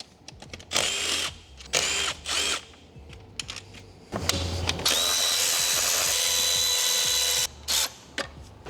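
A power tool spins out E8 Torx bolts from an N47 diesel engine during valve cover gasket work, loud short whirring bursts followed by one longer sustained run, near and alone.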